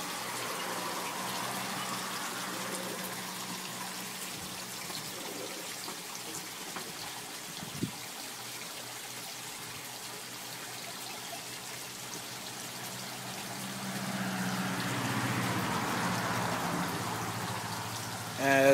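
Water gurgles and flows steadily as an aquaponic bell siphon drains a grow bed, faint and continuous, swelling louder toward the end.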